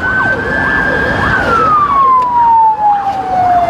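An ambulance siren wails loudly and close during a traffic police road raid, a sweeping rise-and-fall tone with a second siren's steady gliding pitch over road rumble.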